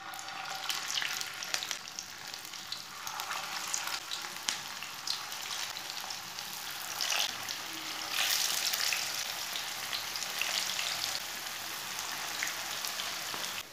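Pakoras frying in hot oil over a medium flame, giving a steady, dense crackling sizzle with bright spitting pops that swells slightly at times, close and continuous with no talking.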